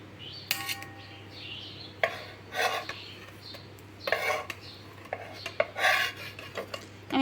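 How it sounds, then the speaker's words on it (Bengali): Pieces of fish roe omelette are lifted onto a plate, giving several short, separate scrapes and clinks of a utensil against cookware over a steady low hum. "আমি একটা প্লেটের মধ্যে তুলে নেব।"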